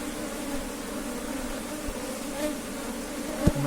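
A swarm of honeybees buzzes around beehive frames, a dense steady drone close by, with a brief knock near the end.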